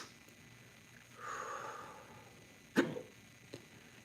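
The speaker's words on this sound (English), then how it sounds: "Hiccups are still running pretty good." Hiccups from someone who has eaten very hot peppers, likely scorpion pepper, with one sharp close hiccup jolt and a fainter second one after a soft breathy stretch.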